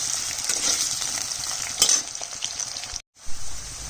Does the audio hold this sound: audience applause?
no